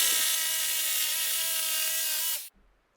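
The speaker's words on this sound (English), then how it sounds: "So we started with a big block of cedar, marked out a rough hammer head, and began cutting it with a jigsaw" A jigsaw cuts through a large block of cedar clamped down for a hammer-head pattern, giving a loud, steady high-pitched buzz for about two and a half seconds before stopping abruptly into near silence.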